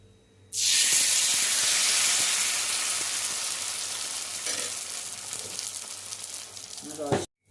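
Dosa batter hits a hot pan and bursts into a loud, sustained hiss that slowly eases over several seconds, then ends with a sharp clatter.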